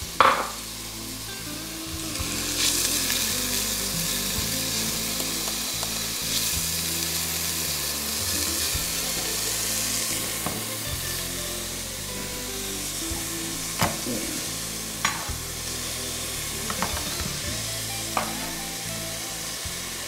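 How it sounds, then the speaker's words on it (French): Sliced onion, crushed garlic and lardons fry in a cast-iron pot, a continuous close sizzle and crackle with frequent stirring scrapes and clicks from a utensil, no talking. "On va faire revenir l'oignon et l'ail. L'oignon que j'ai émincé, l'ail que je vais écraser. Et puis les lardons."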